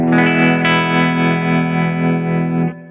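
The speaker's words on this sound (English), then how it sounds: "you hear how much more drive already the bridge pickup has" A home-built 335-style electric guitar from a kit, played on its bridge pickup alone through an overdriven amp, rings out as a loud sustained distorted chord that decays and cuts off near the end.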